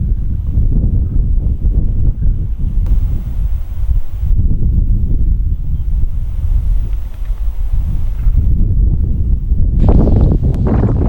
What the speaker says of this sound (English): the wind just being very uncontrollable for sound